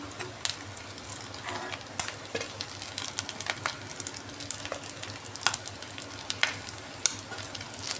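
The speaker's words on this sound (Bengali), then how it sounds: "আবার উল্টে পাল্টে দিচ্ছি সবগুলো এখনও ভাজা হয় নাই" Pieces of rohu fish roe fry in a pan, with a soft steady sizzle and light, irregular clicks and scrapes as they are turned over, close and fairly quiet.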